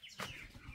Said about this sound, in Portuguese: Esse passarinho tá cantando.